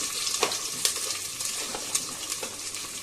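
Onions tipped into hot tempering oil for an Andhra-style sambar sizzle and crackle steadily up close, with a few scraping stirs of a spoon against the pan.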